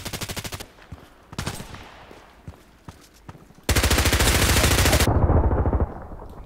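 Rapid automatic bursts from an H&K MP5k submachine gun in the shooter game Contract Wars, a short volley, scattered single shots, then a long loud sustained burst, with no talking.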